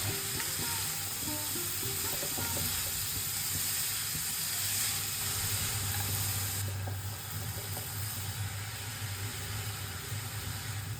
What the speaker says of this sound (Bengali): এবার কিন্তু গাজরটাকে ঘিয়েতে আমরা ভাজবো।